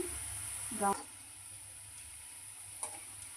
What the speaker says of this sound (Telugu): ఆయిల్ వేసుకొని హీట్ అయిన తర్వాత ఈ ఆనియన్ అయితే వేసుకుందాం ఇలా అయితే ఫ్రై చేసుకోవాలి